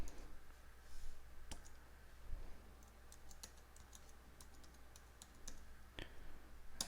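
Password typed on a computer keyboard, with scattered single key clicks and short bursts of taps at an irregular pace, faint and close over low background hiss, with no one speaking.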